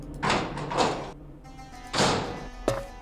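A creaking door swings open in the Nancy Drew game Curse of Blackmoor Manor, heard as a couple of swelling wooden creaks and a closing knock, close and clear, with no talk over it.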